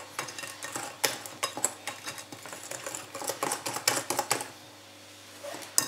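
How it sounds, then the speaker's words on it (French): Batter being stirred in a bowl with a pinch of salt just added, a quick series of sharp taps and scrapes from the utensil against the bowl, close and steady, briefly pausing near the end, with no talking. "Je vais continuer à bien remuer."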